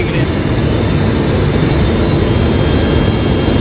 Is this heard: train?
yes